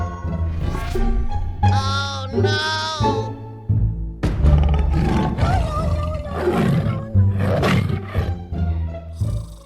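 A cartoon tiger roars loudly several times in a children's animated episode, long growling roars broken by short pauses, close and dominant with no speech over them.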